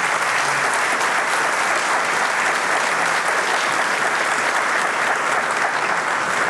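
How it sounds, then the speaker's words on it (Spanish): Loud, sustained applause from an audience at a ceremony for the Orden Manuel José Hurtado award, following a stage opening performance, with a constant, even wash of clapping from start to finish. "un fuerte y caluroso aplauso para ellos"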